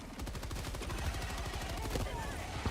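Rapid video game gunfire rattles in dense, evenly spaced bursts, fairly quiet and continuous throughout, with no distinct explosion standing out.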